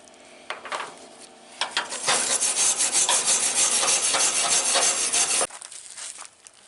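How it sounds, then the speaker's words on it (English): Paint being scraped off a surface with a power tool set to about 7: a harsh, steady rasping grind that builds after a few short scrapes, runs loud for several seconds, then cuts off abruptly. "Trying to scrape the paint off."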